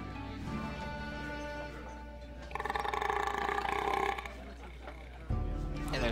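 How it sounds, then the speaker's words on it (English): Dwarf characters in EverQuest II belch after downing Dwarven Ale: long, drawn-out rumbling game burps, a couple in succession, moderately loud with a background game tone, no talk over them. "And there's a lot of burping for this."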